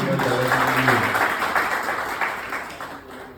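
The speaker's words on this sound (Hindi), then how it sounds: "जोरदार तालियां जरा" A crowd at a Vaishya Mahasammelan gathering in Guna district, Madhya Pradesh, breaks into loud, dense applause that holds strong and then gradually tapers off.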